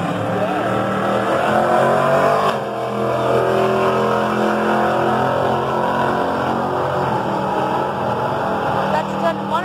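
Race car engine roaring loudly and steadily as it accelerates hard at a drag strip, a sustained throaty drone with a brief dip partway through, people talking underneath.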